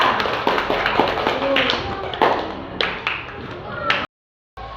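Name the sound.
classroom clapping for a student group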